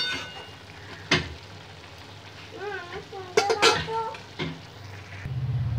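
A spatula presses chicken and rice down in a sizzling pan, with a low frying hiss, a few scraping and clattering bursts midway, and louder sizzle at the end.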